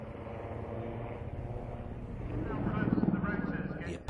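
A Lynx helicopter of the Blue Eagles display team flies at the 2009 Sunderland International Airshow, heard as a distant rotor and engine drone that grows gradually louder, with crowd and commentary noise in the background.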